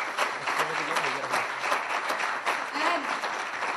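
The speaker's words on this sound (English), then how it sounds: "So are we going to give them a very good hand, first of all, a big round of applause?" An audience at a talent contest breaks into lively applause, a mix of crowd clapping with some voices calling out over it.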